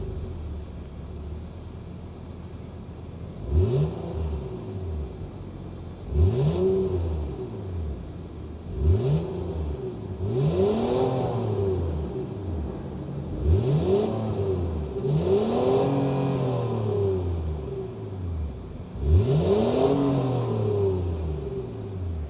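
A 2026 Honda Ridgeline RTL pickup's naturally aspirated 3.5-liter V6 idles with a steady rumble, then revs up and falls back repeatedly, about seven loud throttle blips in a row, close by.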